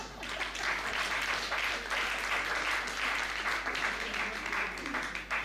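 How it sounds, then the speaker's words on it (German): Audience applause in a talk-show setting, steady dense clapping throughout with a low hum underneath and possible voices mixed in. "Du kannst klatschen, wenn du willst."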